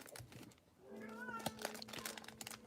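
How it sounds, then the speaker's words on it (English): A cat meows during a Pokémon card livestream, a single drawn-out, rising and falling meow at moderate distance, with faint crinkling and background voices around it. "Kitty is just meowing her little head off."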